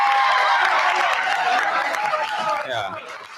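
Applause and cheering from a crowd at a college election meeting, loud and continuous, then thinning toward the end.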